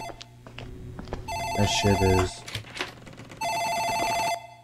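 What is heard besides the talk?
telephone ringing in an office, from a video game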